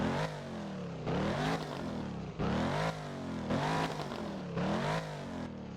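A Ford GT convertible in the video game Driving Empire revs its engine in repeated bursts, about five rising and falling surges spaced roughly a second apart, loud and close with no talk.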